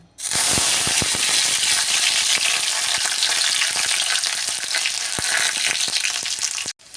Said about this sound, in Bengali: রসুনটা একটু লাল লাল ভাজা ভাজা যেই হয়ে গেছে